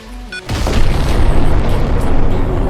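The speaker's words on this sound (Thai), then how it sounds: "ที่นี่กำลังระเบิด" Explosion in the horror game Project Inmate: after a short burst of quiet tones, a loud, deep blast erupts and rolls into a sustained heavy rumble that stays strong to the end.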